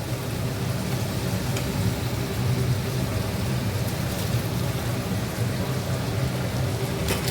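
Meat and potatoes dropped into hot oil for a home-style chicken curry give a steady, dense sizzle and crackle that runs unbroken throughout, fairly loud and close with no talking.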